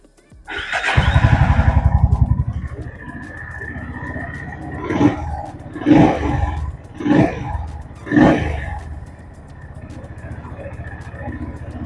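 A Honda CB350 motorcycle engine starts, then idles with several distinct revving bursts at intervals, close by, settling back to a steady idle.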